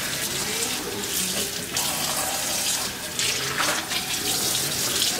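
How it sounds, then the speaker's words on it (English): Ice-cold tap water runs steadily into a sink while a tie-dyed shirt is rinsed under it, a loud continuous splashing flow with some sloshing. "I'm gonna go ahead and rinse the shirt out until I don't see any more color in the water."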